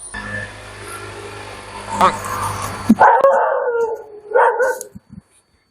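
A dog howls in a Kerala village yard. A long, wavering howl rises loudly after a burst of nearby noise and is followed by a shorter howl, with a person talking around it.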